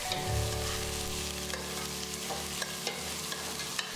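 Vegetables sauté with ginger and garlic in a pan for chicken soup, producing a continuous close sizzle with a few light stirring clicks and a low steady hum underneath. No one speaks.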